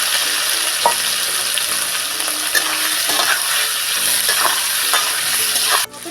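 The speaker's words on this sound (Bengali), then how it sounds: "আমি এটা ভালো করে ভেজে নিচ্ছি।" Boiled potatoes fry in oil with a loud, close sizzle as a utensil stirs them in repeated scraping strokes, and the sound cuts off sharply near the end.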